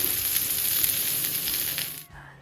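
Onion, garlic and dried chilli sizzle loudly in hot oil in a pan, a steady close hiss that drops away abruptly near the end.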